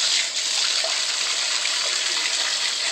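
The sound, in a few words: water running from a tap turned on by a hyacinth macaw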